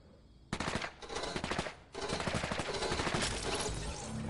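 SMG gunfire in a video game, rapid automatic bursts that start suddenly, pause briefly near the two-second mark and then resume in a long, loud, continuous stream.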